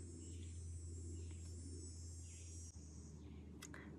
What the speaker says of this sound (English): I swear there was no cicadas when I started filming.